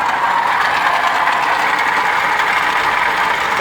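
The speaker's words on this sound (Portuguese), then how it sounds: "Tá ouvindo o barulho do motor?" A 2015 Hyundai HB20 1.2 12V engine idles with a failing water pump, giving a loud, steady mechanical drone with a faint rattly whine running unbroken throughout.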